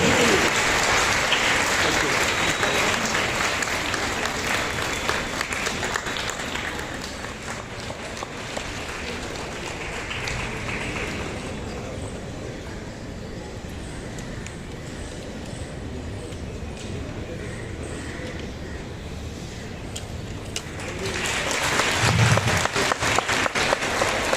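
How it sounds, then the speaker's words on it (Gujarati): A crowd at a school Republic Day celebration claps loudly in a dense, sustained burst that eases off midway, then swells again toward the end, with voices mixed in. "એકવાર જોરદાર તાળીઓ"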